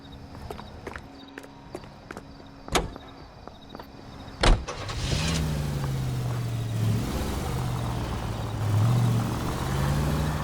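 A car in the video game L.A. Noire: footsteps and a couple of sharp door slams, then the engine starts and drives off with a steady rising hum and gear shifts, fairly close.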